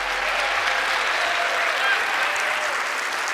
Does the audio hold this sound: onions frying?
no